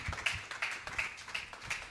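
Congregation clapping in praise during a church service, a steady run of sharp rhythmic handclaps, fairly close and moderately loud, with no talk over it.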